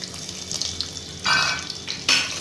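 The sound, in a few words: garlic browning and sizzling in hot oil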